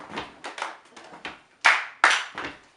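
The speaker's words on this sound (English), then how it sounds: "Da da da da, clap clap." Sharp hand claps in a chant ring out close and distinct, a run of quick light claps followed by two louder, harder ones, with nothing else around them.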